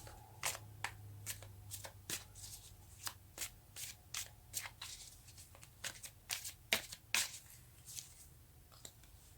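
A deck of tarot cards is shuffled by hand, with a quiet run of repeated riffling snaps and soft card slides in an uneven rhythm over a low background hum.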